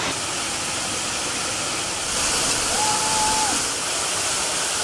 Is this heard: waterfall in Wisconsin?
yes